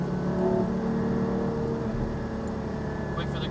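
A Porsche Cayman GT4 pulling hard at full throttle around a track, its engine a steady loud whirring drone from inside the car.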